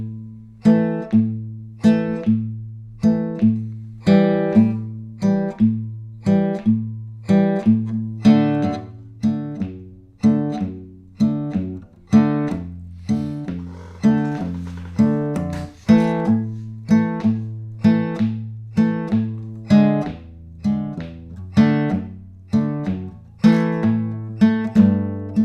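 A shout chorus accompaniment played on a keyboard instrument, a steady rhythmic pattern of repeated chords over a walking bass line, each chord struck crisply and decaying, continuing evenly and alone without any voices.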